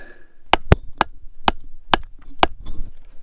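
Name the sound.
rock cracking and breaking loose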